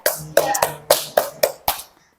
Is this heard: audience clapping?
yes